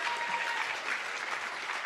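Applause from the audience at the Spokane mayor's State of the City Address, a steady, moderately faint wash of clapping with no pauses.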